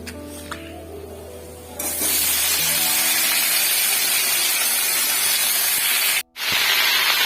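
A loud, steady sizzle bursts in as bottle gourd greens hit hot oil with onion and garlic, continuing as a broad hiss with one brief break before resuming.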